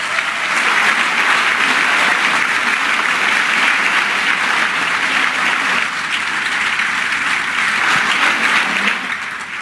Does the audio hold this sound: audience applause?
yes